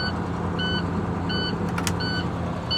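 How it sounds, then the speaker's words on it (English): A converted ambulance's low air pressure warning alarm beeps steadily about once every 0.7 seconds over a loud idling engine rumble. "That alarm's going to be on for a while until the air pressure builds up."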